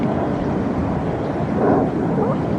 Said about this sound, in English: Hear all those planes overhead.